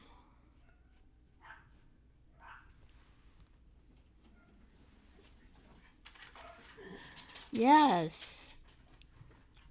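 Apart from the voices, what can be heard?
dogs barking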